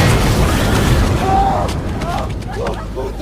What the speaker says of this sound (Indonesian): rompi itu meledak